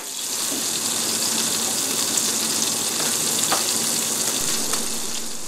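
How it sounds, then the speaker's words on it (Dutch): Water boils hard in an electric kettle with macaroni cooking inside, giving a steady, close, hissing bubbling rush with a few small clicks and no talk. "Intussen kookt het water lekker."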